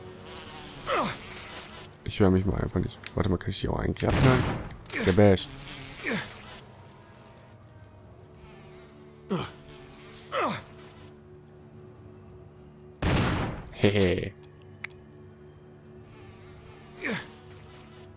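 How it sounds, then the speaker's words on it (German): Buzzing of attacking bees in the video game Resident Evil HD Remaster, a faint steady insect drone running under frequent talk and several louder bursts of game effects. "Wie viele Angriffe der Bienen brauche ich?"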